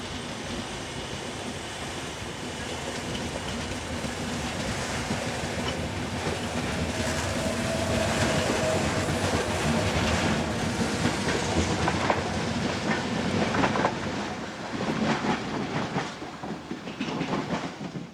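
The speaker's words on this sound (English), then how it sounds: "This Class 470 unit heads southbound for Madrid." A Class 470 electric multiple unit passing southbound toward Madrid on a Spanish line, a steady, loud rumble with clickety-clack of wheels over rail joints that lasts the whole stretch, with no voices.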